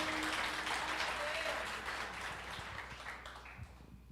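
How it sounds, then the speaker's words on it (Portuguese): Church congregation applauding a visiting missionary during a service, a dense broadband wash of clapping that gradually thins out over a few seconds, with some voices mixed in. "Vocês estão aplaudindo Jesus aí?"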